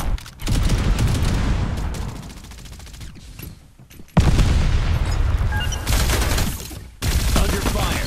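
Close, loud bursts of gunfire and blasts from the battle royale game Farlight 84 fill the clip in dense volleys, broken by short gaps.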